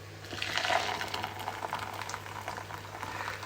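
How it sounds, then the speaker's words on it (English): Boiling water poured over a whole tomato scored with a cross to loosen its skin, giving a steady bubbling, hissing wash of liquid at close range with no voices. "And then you add boiling water."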